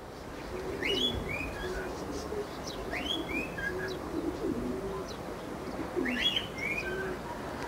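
Pigeons of a long-faced breed coo in repeated soft, low calls while chirpy notes rise above a steady outdoor hiss and rustle, with several overlapping birds close by.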